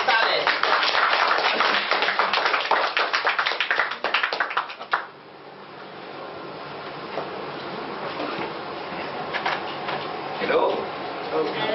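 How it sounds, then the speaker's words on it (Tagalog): Audience applause welcoming an engineer to the stage at an event, a dense clapping burst that fades after about five seconds into quieter crowd murmur and a voice. "Isang milyong-milyong palakpak para sa kanya."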